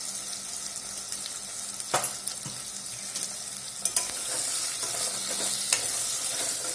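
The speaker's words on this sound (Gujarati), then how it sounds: "દાળ વઘારી દીધી" Dal for a Gujarati meal is tempered in a pan, giving a bright continuous sizzle with a few scraping stirs and clicks, close and steady and growing slightly louder toward the end.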